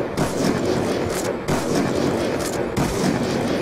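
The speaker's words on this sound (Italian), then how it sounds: "A me finite di sparare in sincronia che mi fa schifo come rumore." Gunfire from Black Ops 2 on a shared screen rattles in dense, continuous volleys of overlapping shots, loud and close, with brief dips near the middle and end.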